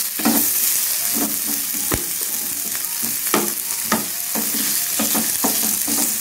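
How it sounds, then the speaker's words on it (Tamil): Onions and curry leaves sautéing in hot oil for chicken podimas, a dense continuous sizzle broken by repeated rhythmic scrapes and taps of a spatula stirring in the pan. "வெங்காயம் நல்லா பச்சை ஸ்மெல் போகிற வரைக்கும் வதக்கிக்கோங்க"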